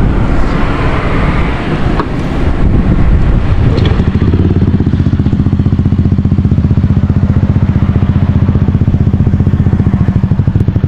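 A Yamaha Aerox 155 scooter fitted with a TRC power pipe exhaust idles close by with a steady, throbbing low pulse, after a short revving, rushing passage at the start.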